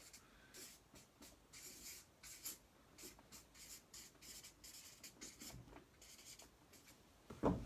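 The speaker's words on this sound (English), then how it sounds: "I should probably write something on this board" Marker strokes squeak and scratch across a whiteboard in quick bursts of writing, a close, fairly quiet series of short rubbing strokes with brief pauses between them.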